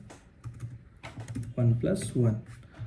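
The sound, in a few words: typing code on a computer keyboard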